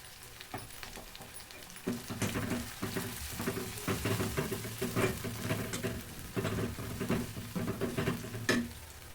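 Chicken curry ingredients frying with turmeric in a home kitchen pan, a steady close sizzle broken by repeated scraping stirs and utensil knocks against the pan, with no talking.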